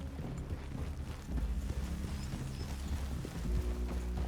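Horse hooves clip-clopping in the Red Dead Redemption 2 video game, a continuous run of steady hoofbeats with a rough outdoor wind-like background.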